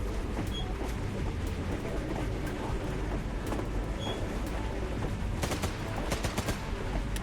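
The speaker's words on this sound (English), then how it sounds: "Yeah, auto rifle Thompson." A Thompson auto rifle firing in a rail shooter video game, with sustained rapid bursts over a rumbling, train-like background and crisper clusters of shots near the end, all fairly loud with no talking.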